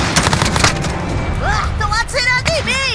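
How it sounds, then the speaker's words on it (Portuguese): Gunfire in Call of Duty: Modern Warfare crackles in rapid bursts of close shots, loud and sharp, while voices shout over the racket in short excited cries. "Estão atirando em mim!"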